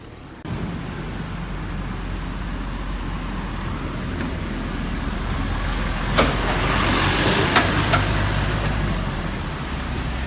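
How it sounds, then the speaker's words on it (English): A heavy water truck's engine rumbles steadily as it rolls past nearby in Phuket, Thailand, building slightly louder toward the end amid general road noise. "Water trucks, common sight right now here in Phuket."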